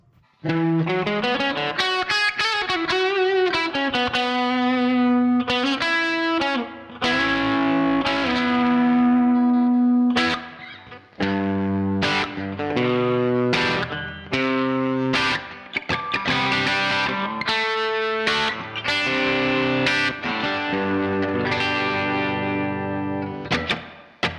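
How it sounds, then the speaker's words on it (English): An electric guitar plays a melodic line of ringing notes and chords with a distorted tone and a light wash of standard built-in reverb from a ToneX One, loud and continuous. "It's just using the built-in, just standard reverb"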